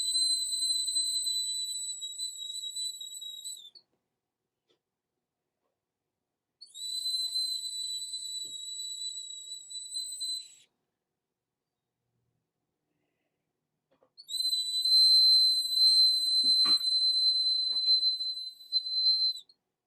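Three long, steady whistle blasts, a few seconds each with pauses between, loud and clear with no talk, blown to open a women's gathering.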